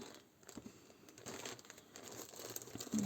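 A plastic bag crinkles and rustles as skeins of yarn are pulled out of it, soft close crumpling in uneven bursts at a quiet level, with no talking.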